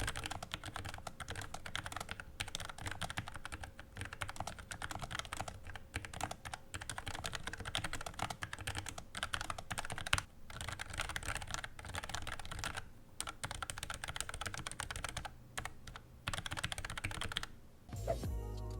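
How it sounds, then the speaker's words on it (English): Continuous, fast typing on a mechanical keyboard with a plasticky sound, a dense, close clatter of keystrokes with brief pauses and a louder bottom-out clack near the end. "It has the most plasticky typing sound among these keyboards."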